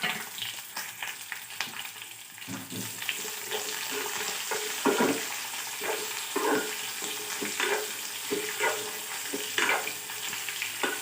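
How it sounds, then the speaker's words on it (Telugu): Curry leaves, onions, green chilies and garlic fry and sizzle in a pan, with a steady hiss broken by repeated scraping stirs throughout, close and moderately loud, no talking. "కరివేపాకు, ఆనియన్స్, పచ్చిమిర్చి, వెల్లుల్లి అన్నీ వేసుకొని బాగా వేయించుకుందాం."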